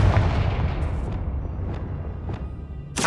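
Confringo blast spell exploding in the Hogwarts Legacy video game: a loud, heavy booming rumble with several sharp bursts cracking over it, closing on a bright final blast, with no talk.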